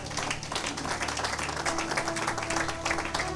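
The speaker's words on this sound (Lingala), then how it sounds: "Acclamez pour la gloire du Seigneur notre Jésus-Christ." A church congregation applauds in praise during a sermon, a dense, steady round of clapping from many hands that fills the room, with faint voices mixed in.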